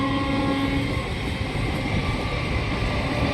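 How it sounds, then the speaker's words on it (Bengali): A train rumbles steadily past, loud and close, with a continuous roar and a faint tonal hum from the rails. "এই ট্রেনটা চলে গেল আর একটা ট্রেন ঢুকবে"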